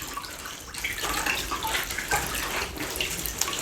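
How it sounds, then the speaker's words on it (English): Water streams and splashes as a wet suit jacket is wrung out by hand over a sink, a steady, close, uneven trickle with brief surges. "I'm going to hand squeeze as much as possible, as much of the water as possible out of the jacket"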